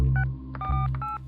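Telephone number being dialed, a quick run of about four distinct touch-tone beeps, clear and close over a low steady hum.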